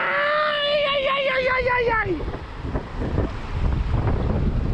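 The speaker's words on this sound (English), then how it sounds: "Here comes the water!" A voice whoops loudly before water rushes in with a heavy, churning roar that swells and stays close, buffeted by wind noise.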